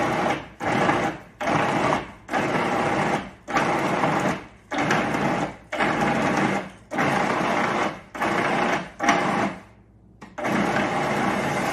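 A food processor runs in a rapid series of short pulses, about ten bursts with brief gaps, whirring loudly as it mixes empanada dough of flour, egg and ice-cold water.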